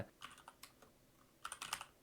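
Someone types on a computer keyboard in quick, faint clusters of key clicks, with a brief pause in the middle and a denser flurry at the end, with no talking.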